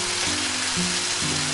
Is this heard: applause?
no